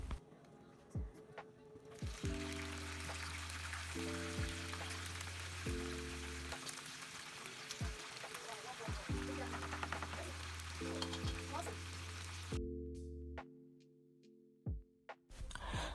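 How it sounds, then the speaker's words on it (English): Continuous sizzling of meat frying in hot oil, a steady crackling hiss that carries on under loud background music. "I'm going to move over to frying our meat"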